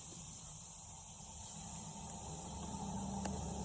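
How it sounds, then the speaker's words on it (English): A steady, soft hiss of fizzing and sizzling runs throughout, continuous and fairly faint, like a bubbling chemical reaction. "See how it sizzles?"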